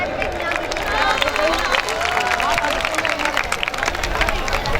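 Crowd applause and cheering at a Pak Sarzameen Party rally at Nishtar Park, Karachi, for the party's vice chairman. A loud, continuous wash of clapping mixes with crowd babble and voices.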